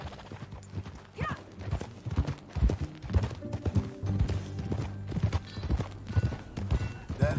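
Horse hooves gallop in a steady clip-clop rhythm through Red Dead Redemption, sounding close and loud over game music and ambience, with an occasional whinny.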